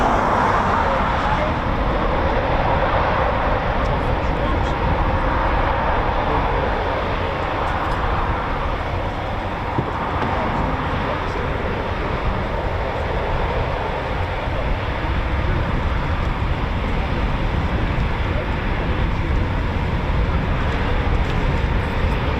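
A CH-47 Chinook helicopter flies nearby at an RAF air station, giving a broad, steady rotor and engine roar that swells and fades slightly over about twenty seconds, with occasional voices in the background.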